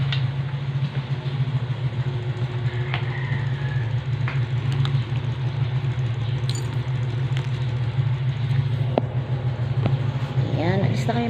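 A car engine idles steadily as it warms up, a constant low hum running the whole time, with light jingling and clicks on top and a brief voice near the end.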